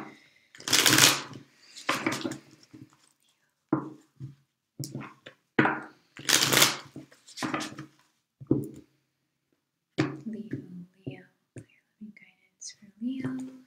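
Tarot Muha cards shuffled in several bursts of riffling and slapping, close and crisp, with quiet gaps between them and faint sounds near the end.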